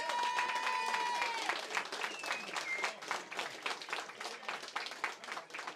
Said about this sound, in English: I think this team deserves a huge round of applause